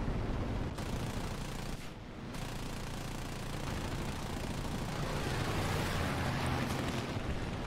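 Continuous roaring barrage of rapid aircraft cannon fire in a video game, dense and loud throughout with a brief dip near the start, like heavy automatic guns blasting in combat.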